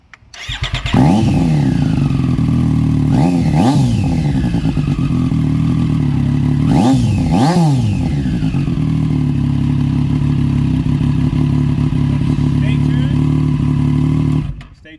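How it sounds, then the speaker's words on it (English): A motorcycle fitted with an SC Project S1 exhaust starts up loudly nearby, then settles into a steady rumbling idle broken by several sharp throttle blips and revs. "Now we're going to start it up."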